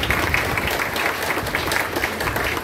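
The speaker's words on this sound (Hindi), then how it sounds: "एक बार ताली अपने लिए बजा लीजिए" An audience at a business seminar applauds in a dense, sustained burst of many hands clapping, loud and close, continuing steadily throughout.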